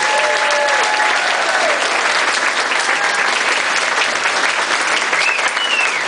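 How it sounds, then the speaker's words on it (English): A variety show audience applauds the cast with dense, steady clapping that holds at full strength, loud and close throughout, with a few faint whistles rising above it. "Ladies and gentlemen, give them a big round of applause,"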